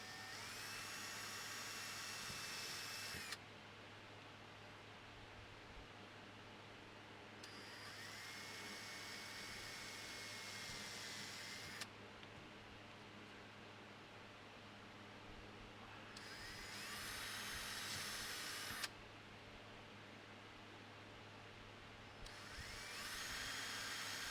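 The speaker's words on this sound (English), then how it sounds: "Now I'm ready to drill for the handle pins and pin these scales onto the liners." High whining drill bursts start and stop repeatedly over a constant low motor hum, each run lasting a few seconds, drilling pin holes through knife handle scales and liners.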